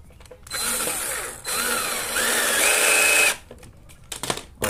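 Power drill driving screws into a cabinet drilling jig, three whirring bursts rising in pitch under load, separated by short pauses, close and loud with no talk.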